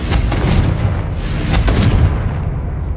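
Confringo fire-blast spell explosions in a Harry Potter video game, cast at spiders: loud booming bursts over a constant rumbling, with a couple of sharper blasts standing out, no talking.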